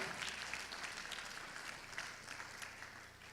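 Congregation clapping for the Lord at a church service, a dense steady patter of many hands at moderate distance, continuous throughout without speech.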